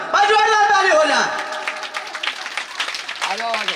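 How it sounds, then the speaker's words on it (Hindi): An audience applauds at a Shrimad Bhagavat Katha religious discourse in Ghaziabad; after a brief spoken voice, a dense burst of many hands clapping rises and continues close and loud. "ताली हो जाए"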